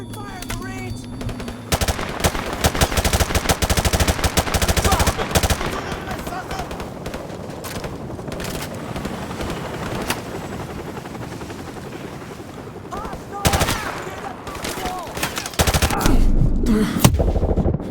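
Marines opening fire in a military video game, with dense bursts of automatic gunfire and heavy rumbling battle noise that swell and ease, plus shouted voices mixed in.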